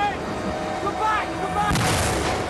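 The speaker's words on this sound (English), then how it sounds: "they still carry on forward towards the mortar fire" Mortar fire lands during a jungle training exercise, giving a heavy booming blast over a steady outdoor rumble, with faint voices in the background.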